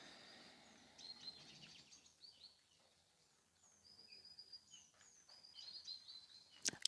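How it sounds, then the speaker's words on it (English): Faint high chirps and short calls of birds singing outdoors in a quiet open setting, scattered over a soft hiss of background ambience, with a sharper chirp near the end. "have to be able to hear those birds."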